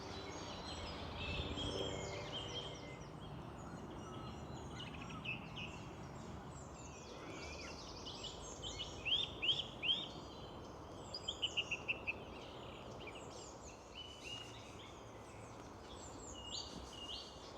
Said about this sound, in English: The sounds of the birds, it's so relaxing.